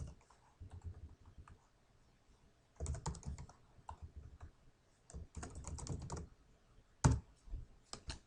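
Bursts of fast typing on a computer keyboard, close and clicky, separated by short pauses and one sharp louder key strike, with no voices.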